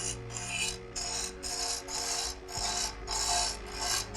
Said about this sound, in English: The first thing I'm going to do is rough grind the tip.